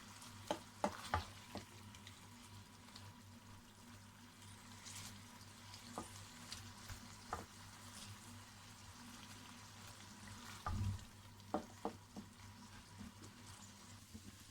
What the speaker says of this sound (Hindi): अब साथ साथ इसको हम भूनते जाएंगे और साथ साथ इसके ये पीस, ये स्मॉल पीस करते जाएंगे